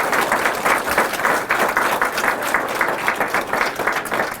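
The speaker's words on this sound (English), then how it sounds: "So how about another round of applause for our students?" An audience applauds students at a fifth grade student council leadership summit, a dense, sustained round of clapping from a crowd in a room.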